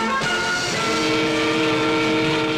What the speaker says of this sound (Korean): 전라남도 광주와 서울 간을 잇는 직통 특급 열차 태극 2호가 신설